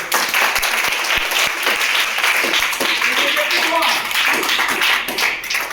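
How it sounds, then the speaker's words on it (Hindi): A classroom of children claps in unison on the teacher's cue, a burst of loud applause with sharp individual claps, while voices talk over and between the clapping. "मेरी बात ताली बजाओ"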